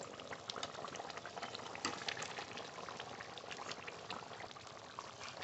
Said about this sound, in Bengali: ঝোল ভালো করে ফুটিয়ে নিয়েছি